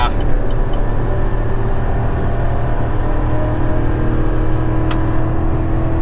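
A gas GMC Sierra 3500 pickup with the L8T V8 and Allison transmission pulls hard up a steep grade while towing, a loud, steady engine drone with constant road and wind noise filling the cab throughout.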